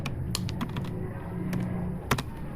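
Someone types on a computer keyboard at a desk while coding, with irregular clicks, a few sharper taps, close and moderately quiet, and no talk.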